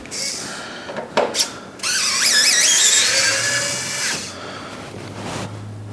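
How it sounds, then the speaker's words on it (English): A power screwdriver backs screws out of a Bambu P1P 3D printer in a close, loud whirring burst with rising and falling pitch, following a few short clicks and handling taps. "all of these screws have to come out."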